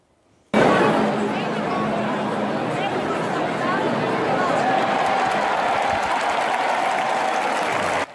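A large crowd applauds steadily and continuously at the Madonna Vasa Vasa Easter festival in Modica, Sicily, a dense wash of clapping with murmuring voices mixed in that holds from start to finish.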